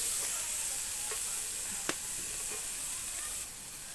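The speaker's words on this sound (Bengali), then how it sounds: "পেঁয়াজগুলো ভাজা ভাজা করব।" Onions frying in soybean oil for a bean mash, a soft steady hiss and sizzle with a few faint pops and clicks, close and fairly quiet with no talk.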